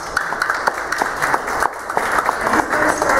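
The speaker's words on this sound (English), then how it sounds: "So if you would join me in a round of applause." Sustained audience applause welcoming a guitarist at a Sunday morning gathering: dense, steady clapping from many hands, fairly close and loud throughout, with no talk over it.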